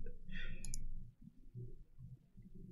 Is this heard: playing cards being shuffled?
yes